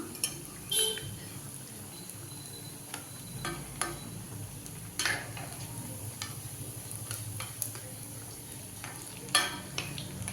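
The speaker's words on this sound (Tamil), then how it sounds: "ஒரு பக்கம் நல்லா செகந்துடுச்சு இப்போ இதை வந்து திருப்பி போட்டுக்கலாம்" Meal maker (soya chunk) vadas fry in hot oil with a steady, close sizzle, while scattered clicks and taps sound as the pieces are turned over one by one.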